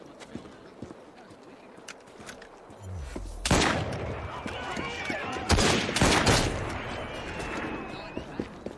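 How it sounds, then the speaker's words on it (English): A volley of gunfire in Assassin's Creed Syndicate: after a low rumble, a burst of loud cracking shots erupts, followed by more sharp reports and clatter under a busy game soundscape, with voices present. "Prepare for a volley!"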